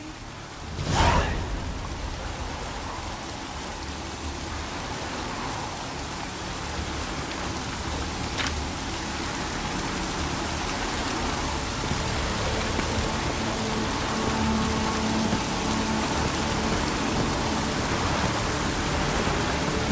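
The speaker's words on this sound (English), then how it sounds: "Looks like rain." Steady rainfall in The Witcher 3: Wild Hunt, a constant hissing wash that holds evenly throughout, with one loud thump near the start and a brief sharp crack later.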